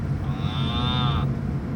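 A cow moos once in a long, drawn-out call near a stone house in the countryside, steady and fairly loud over a low outdoor rumble, with no one talking.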